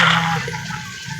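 Water pours into a cauldron in the Minecraft video game, a brief gushing splash that starts loud and tapers into a softer trickle, with no voices.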